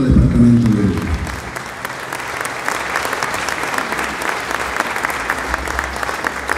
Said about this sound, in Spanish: Un aplauso, por favor, por nuestro querido departamento de Oruro.